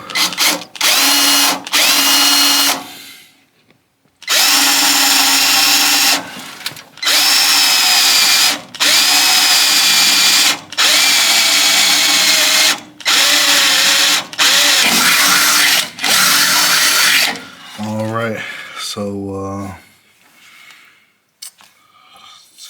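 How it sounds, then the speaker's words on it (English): Loud electric drill whines in repeated bursts, drilling a hole in metal to mount an electric fan assembly on a 1980 Chevy Caprice radiator, stopping and starting with short pauses, then a few lower grinding pulses near the end. "take my drill bit, and kind of drill a hole here"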